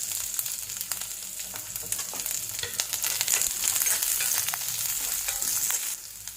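Garlic, onion and chili fry in a pan with mustard seeds for a moringa leaves curry, giving a continuous close sizzle with light crackles and occasional stirring scrapes.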